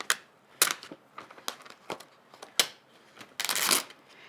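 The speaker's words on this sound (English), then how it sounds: "And then I'm going to peel it off the craft mat." Die-cut card being peeled off a craft mat, heard as a string of close, dry crackling and papery rips with short bursts and a longer rustling tear near the end, no talking.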